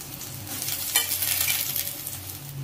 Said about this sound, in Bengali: লবণ আর একটু অল্প করে হলুদ দিয়ে ভালো করে এবারে ভাজতে হবে আস্তে আস্তে